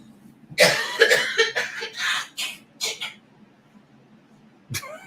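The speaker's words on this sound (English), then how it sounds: "She's over there turning red and coughing." A short fit of several harsh allergy coughs from a young girl in quick succession, fairly close, followed by a pause and one final cough.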